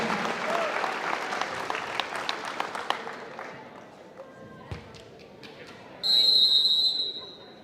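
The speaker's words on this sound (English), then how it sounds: "Give Braxton a round of applause again" A crowd applauds at a high school girls volleyball game in a gym, the clapping fairly loud at first and then thinning out, followed by a sharp referee whistle near the end.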